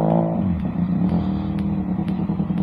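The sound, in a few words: motorcycle passing by on the road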